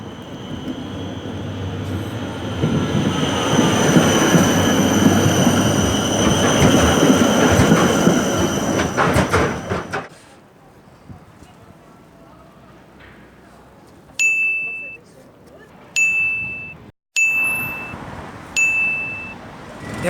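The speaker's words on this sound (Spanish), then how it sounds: "Aquí pasan los tranvías y es muy lindo." Trams pass over a bridge in Wrocław, Poland, a loud rumbling, squealing run of rail noise for about ten seconds, then quieter street ambience with four short, sharp bell dings spaced a couple of seconds apart.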